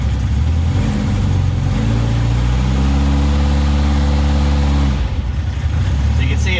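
A Shorrock-supercharged Austin-Healey Sprite idles at roughly 1,050 to 1,100 rpm, a loud, close, steady low rumble that holds evenly before a slight dip near the end.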